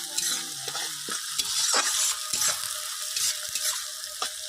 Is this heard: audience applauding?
no